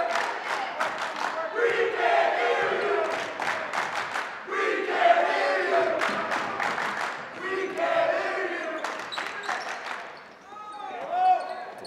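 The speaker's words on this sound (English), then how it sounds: "dressed in the whites for the whiteout, cheering their team on big time here in the fourth quarter" A student section dressed in white for a whiteout cheers loudly through the fourth quarter of a girls high school basketball game, with sharp rhythmic claps and shouts, bursts of crowd noise, and an announcer talking over it.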